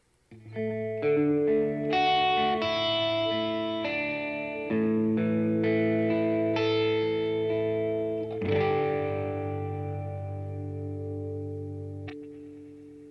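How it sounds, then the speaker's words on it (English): Reverb plugin set so its time control behaves like a delay with feedback, smearing a sustained instrumental mix into repeating echoing tails; loud, continuous processed chords with swelling decays and no talk. "That's what I'm getting from time, is more like a feedback on a delay rather than a sustaining reverb."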